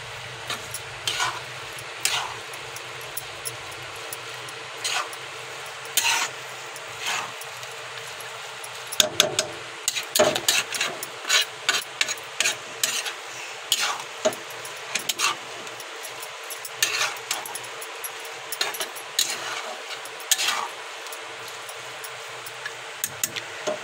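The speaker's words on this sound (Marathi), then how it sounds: "हे छान मिक्स करून घ्यायचं आहे।" Carrot halwa with dry fruits being mixed in a pan: a steady series of light scraping and clinking strokes of a spoon against metal, close and moderately loud, with irregular rhythm and no talking.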